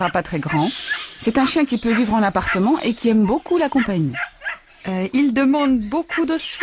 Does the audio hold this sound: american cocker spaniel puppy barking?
yes